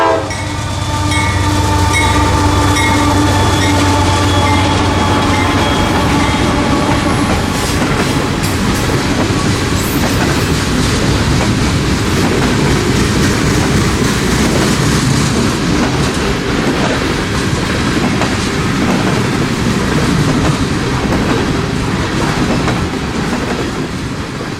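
A long CSX freight train led by locomotive 343 rolls past heading northbound at Plant City, near Tampa, with a loud steady rumble, horn blasts at the start, and clickety-clack of wagons continuing throughout.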